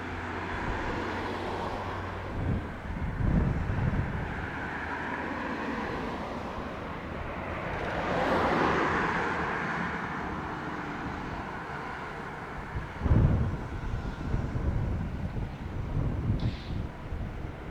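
A heavy airliner lands on runway 07, giving a steady broadband roar with wind noise, swelling near the middle and again with a brief loud burst toward the end, with no talk.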